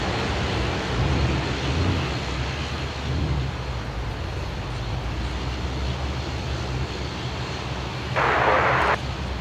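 A Qantas airliner landing on Sydney's runway 16 right sends a distant, continuous jet rumble and roar across the airport, steady throughout, with a brief louder hiss toward the end.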